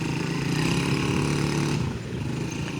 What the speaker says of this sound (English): 25 Savage on the go-kart! Can't drive for crap. There's Great Queen on the dirt bike.